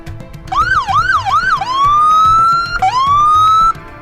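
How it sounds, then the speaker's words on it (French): A Miami police car siren wails at night, close and loud, first in quick rising-falling yelps and then in long sweeping wails that climb, drop and climb again, over a low rumbling background. "la sirène de la police de Miami perce le silence profond de la nuit"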